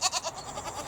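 Goats bleating in a suburban paddock, a close, loud, wavering cry that breaks into rapid pulses and trails off over about a second.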